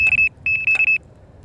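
A Micron M-Series carp fishing bite alarm gives a short run of clear, high electronic beeps, one longer tone and then several quick pulses, near and loud over a quiet background.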